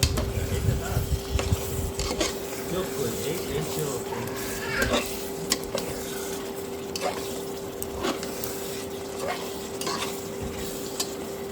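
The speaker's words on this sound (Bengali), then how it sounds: "এবার আমি ডিমগুলো ভালো করে কষিয়ে নেব।" Fried eggs being stirred in a pan with spices while cooking egg malai curry, giving steady sizzling under repeated spoon scrapes and clinks. A steady hum runs throughout.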